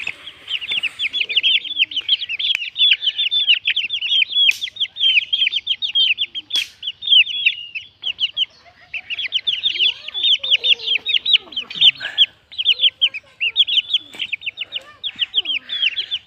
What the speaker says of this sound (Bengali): এগুলা মোরগ বাচ্চা এটা